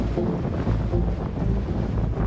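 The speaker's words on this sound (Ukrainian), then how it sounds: "Сам вододільний хребет зустрів мене місцями і снігом, і сильним вітром." Strong winter wind roars steadily into the microphone on a snowy Carpathian mountain ridge, a dense low rumble with gusty buffeting throughout and no voices.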